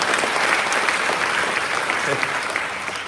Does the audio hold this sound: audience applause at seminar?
yes